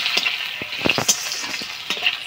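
Chopped onion with dry red chilli, bay leaf and five-spice frying in hot oil, a steady bright sizzle broken by quick scraping stir clicks, close and alone.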